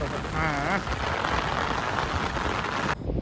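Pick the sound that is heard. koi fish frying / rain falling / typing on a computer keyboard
rain falling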